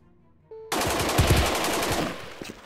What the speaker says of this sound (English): So it's just suppression fire.